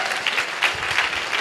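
An audience at a business seminar applauds in a brief, dense burst of many hands clapping together, close and loud.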